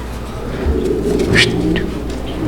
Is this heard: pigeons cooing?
yes